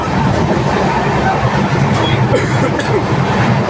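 An Indian Railways train rolls along with a steady, loud rumble and rattle of the carriages, heard continuously from inside the train throughout.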